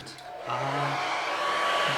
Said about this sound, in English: This is the best hairdryer in the world.